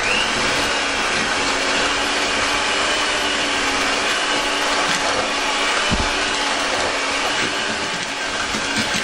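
Butter and sugar being creamed for blueberry and cherry muffins, a steady, loud electric mixer whir running continuously throughout, with no voices.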